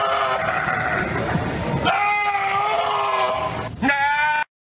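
A goat bleats loudly and close in a quavering cry, then gives a second, shorter bleat near the end, with no talking over it.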